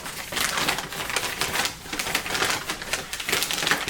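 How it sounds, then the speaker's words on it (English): A knife cuts through packaging around Aniki Cosplay armor at sped-up pace, giving a dense run of rapid scratchy, crinkling rips and scrapes, close and moderately loud with no talk. "let's fast forward while I zoom through cutting this thing open very slowly"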